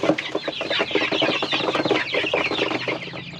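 Young chicks and chickens cluck and cheep in a dense, continuous chorus close by, busy overlapping calls throughout with no talking.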